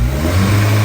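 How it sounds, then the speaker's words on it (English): A car engine on a dyno gives a short, loud rev under load during a timing check, a steady mid-low engine drone heard close with no talk. "I always like to give it a little rev to make sure that there's no timing sync issues with revs"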